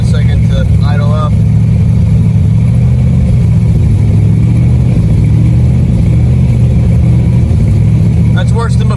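A 1984 Corvette V8 with a carburetor idles just after starting, a loud steady low rumble that holds throughout, with brief voice-like sounds at the start and end.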